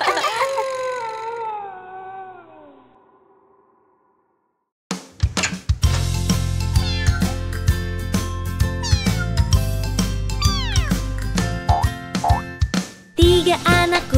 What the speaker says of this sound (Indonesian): Tiga anak kucing hilang sarung tangan dan mulai menangis